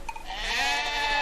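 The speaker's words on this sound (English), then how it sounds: "The sheep are noticeably confused." Sheep bleat in deep snow, a cluster of wavering, nasal calls rising and overlapping, growing louder and fuller toward the end, close by with no talk.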